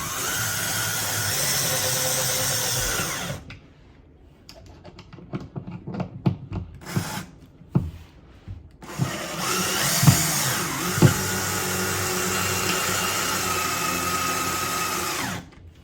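A power drill driving screws into wall anchors to mount a floating corner shelf: steady loud whirring, then a quieter stretch of short clicks and bursts, then long close whirring runs again, with no voices.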